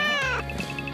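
A child imitates a cat, giving a short, high, nasal meow-like vocal sound that fades into a faint trill, close and brief.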